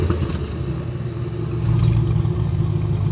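A Cadillac CT5-V Blackwing with stock exhaust rumbles with a deep, loud, steady engine note that swells louder partway through.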